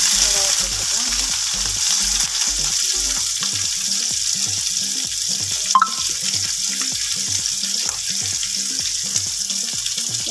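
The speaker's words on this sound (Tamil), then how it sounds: "கடுகு தம்பருக்கு புரிஞ்சதும் நம்ம எடுத்து வச்சுருக்க கருவேப்பிலை சேர்த்துக்கலாம்" Mustard seeds and curry leaves frying in hot oil during a prawn and capsicum fry, a loud continuous sizzle with steady crackling and a faint rhythmic pulsing underneath, no voices.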